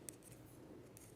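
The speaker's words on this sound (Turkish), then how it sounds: "İlmeklerimi düzeltip kesiyorum." Scissors snip through cotton yarn loops, with faint close crisp cuts coming in quick succession.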